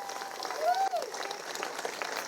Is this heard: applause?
yes